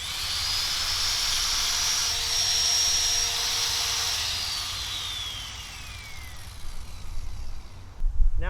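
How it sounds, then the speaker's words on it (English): Circular saw run from a solar panel's DC output, a loud high whine that winds down gradually and fades, followed by a few knocks and handling noises at the end. "Now the circular saw."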